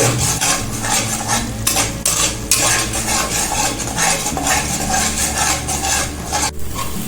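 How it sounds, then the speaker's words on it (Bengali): Peanuts are stirred and sautéed in a pan, a spoon scraping and rattling against the metal over a steady sizzle, loud and close, with a few brief pauses in the stirring. "এবার কিছু বাদামটা দিয়ে দিই দুটো একসঙ্গে কষবে"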